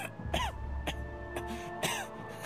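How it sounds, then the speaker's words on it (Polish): A character in the video game Baldur's Gate coughs in several short, harsh bursts spaced about half a second apart, close and clear with no talking. "Chyba kaszle krwią."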